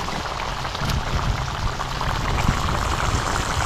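A dense, steady bubbling and sizzling of egg paniyaram gravy boiling in a pan, close up and continuous with no voices.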